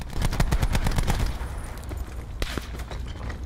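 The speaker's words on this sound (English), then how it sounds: "Yeah, because he's shooting." Rapid automatic gunfire in Call of Duty: Blackout, a dense close burst of shots that tapers off. Scattered single reports follow, with no talking heard over them.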